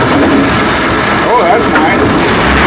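A Massey Ferguson MF 300 combine engine started at full throttle with choke in neutral, a loud steady roar of the running engine while a person speaks briefly over it.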